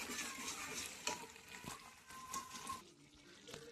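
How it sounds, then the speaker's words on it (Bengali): A pan of spinach curry with paneer is stirred with a spoon, giving quiet scraping and soft bubbling under a faint steady hiss, close up and fairly subdued throughout. "তো তাই জন্য একটু নেড়ে নেড়ে দিচ্ছি।"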